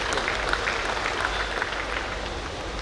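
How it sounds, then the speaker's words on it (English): Audience applause at a Rotary district conference hall, a steady dense wash of clapping from a large crowd that holds level throughout without letting up. "So please give them a big round of applause."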